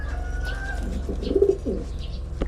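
Young pigeons coo softly nearby, a short low murmuring call in the middle over a steady background hum, with a few faint chirps around it.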